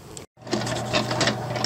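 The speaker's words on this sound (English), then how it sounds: "I'm gonna go put this on the barrel on the machine and start rolling" A rock tumbler barrel rolling on its machine, a steady close mechanical whir and rattle that starts after a brief silent gap.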